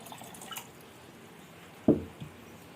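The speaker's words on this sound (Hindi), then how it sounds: "ये पानी ठंडा मैं ऐड कर दूंगी" Cold water poured into falsa juice, a short liquid splash followed by a faint second drip against a quiet background.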